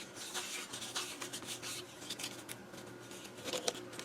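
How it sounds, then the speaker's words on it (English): Soft, continuous rustling and creasing as strips of scored paper are accordion folded by hand, close and quiet with small crinkles. "Okay, and then you're going to accordion fold the pieces of paper."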